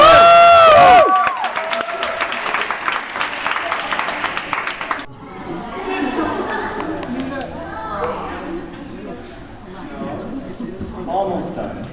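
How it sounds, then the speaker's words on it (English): Graduation ceremony applause for graduates, a crowd clapping and cheering steadily after a burst of electronic tones, with voices talking over it. "one more round of applause for our graduates"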